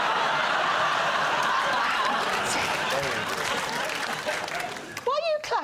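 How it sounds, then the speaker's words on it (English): A studio audience claps on a comedy panel show, a dense sustained wash of applause that tapers off near the end as someone speaks and scattered laughter breaks through. "Why are you clapping?"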